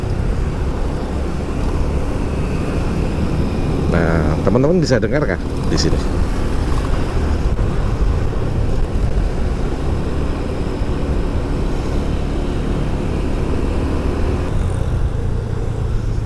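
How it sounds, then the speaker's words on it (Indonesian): Stock Honda Scoopy scooter exhaust revved in short bursts, with rising and falling engine pitch in the middle of the stretch over a constant engine hum, while someone speaks. "Nah ini saya coba dengerin tarikan dan waktu knalpotnya ini ketika diajak digas di sini."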